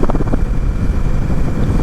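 An Indian Scout Bobber's engine drones steadily while being ridden, a loud, rough low rumble mixed with wind buffeting and no talk.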